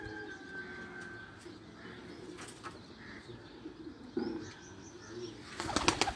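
Racing pigeons on a rooftop during a summer flying event, with soft flapping wing bursts and faint bird calls over a steady outdoor background, wings growing louder near the end.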